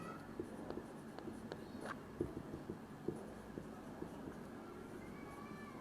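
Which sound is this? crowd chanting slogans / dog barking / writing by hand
writing by hand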